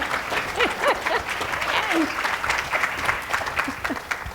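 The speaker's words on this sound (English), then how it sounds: "let's give a round of applause" Steady applause from an audience fills the clip, with a few voices calling out over the clapping.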